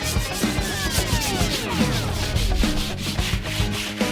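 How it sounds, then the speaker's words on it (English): Steady abrasive rubbing of sandpaper on a wooden block, repeated back-and-forth strokes at a close, even level with no talk. "Now a little sanding will whip this block into shape"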